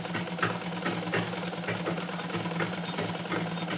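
Sewing machine stitching an umbrella ghagra, a steady, continuous whir with a low motor hum and faint regular clicks, close and even throughout with no talk.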